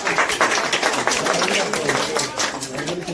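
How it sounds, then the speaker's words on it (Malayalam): Audience applause welcoming two guests at a trust's gathering: dense, continuous clapping from many hands, fairly close and loud throughout. "നല്ലൊരു കൈയടി"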